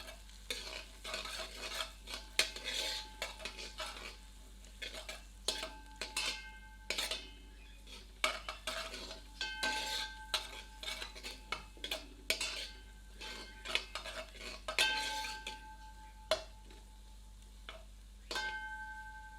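Spoon scraping and clinking in a pan as cumin seeds, ground coriander and red chili powder are stirred together, a steady run of irregular metallic taps and scrapes over a faint sizzle, close and alone.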